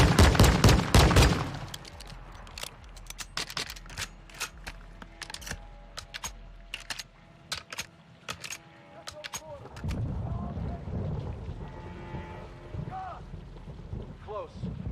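Gunfire in Call of Duty: Modern Warfare 2 (2022): dense rapid bursts and single sharp shots crackle through the first ten seconds, then give way to rumbling ambience, with voices faintly in the mix.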